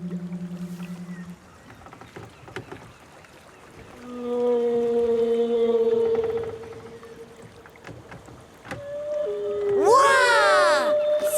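Whale song picked up by a microphone lowered into the water: long, drawn-out tonal moans and rising, sweeping calls, fairly clear against a quiet background. A voice may be imitating the calls.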